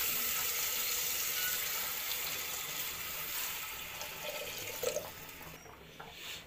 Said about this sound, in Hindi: इसके बाद हम इसमें पानी ऐड करेंगे।